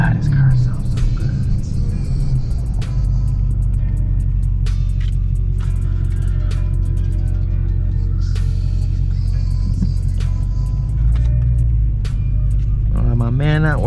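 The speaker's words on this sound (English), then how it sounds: "Oh my God, this car sounds so good." A 2020 Dodge Charger Hellcat Widebody rumbles deeply and continuously while driving, a loud low engine drone under occasional cabin clicks and a person speaking.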